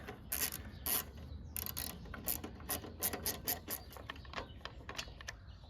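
A WeedEater 21-inch push mower engine being pulled over by hand against a stiff flywheel brake, giving a series of close mechanical ratcheting, clicking pulls with gritty rubbing, repeated unevenly across the stretch with no talk.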